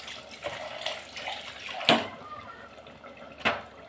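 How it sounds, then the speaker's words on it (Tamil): Water is poured into thick ground dal for bitter gourd sambar, giving a soft continuous trickling and splashing with two sharper splash bursts, close by in a home kitchen. "நம்ம கொஞ்சம் தண்ணி கூட ஊற்றிக்கிடலாம்"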